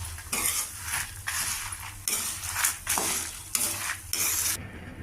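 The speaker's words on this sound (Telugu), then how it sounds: "లో ఫ్లేమ్లో పెట్టి మనం ఇలా వేయించుకుంటూ ఉంటే కరెక్ట్గా వేగుతాయి" Tempering spice seeds rattle and scrape in a dry pan over a low flame as a utensil stirs them in repeated sweeps, a soft sizzle underneath.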